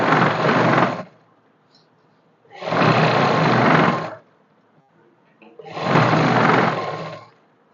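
An electric sewing machine top-stitches a plain salwar in three steady whirring runs of about a second each, with short quiet pauses between them and no talk.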